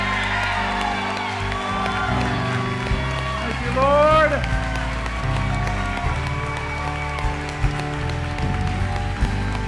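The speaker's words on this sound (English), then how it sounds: "I want you with a loud voice and hands clapping as loud as you can clap them." A worship congregation claps hands and shouts praise together, a dense, steady wash of clapping and raised voices with someone speaking loudly over it throughout.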